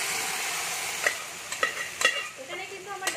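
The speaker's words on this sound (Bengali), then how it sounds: "আমি ডালটাও দিয়ে দিচ্ছি।" Boiled lentils tipped into a pan of sizzling spiced potatoes, giving a steady bright frying hiss with a few sharp stirring clinks and soft splashes as the dal lands, close and alone.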